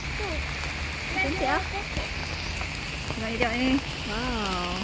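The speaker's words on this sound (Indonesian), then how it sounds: "Ya, hujan lagi." Rain falling steadily on a street during a drive through Spain on the way to Cordoba, a constant hiss heard under chatter, exclamations and a navigation voice.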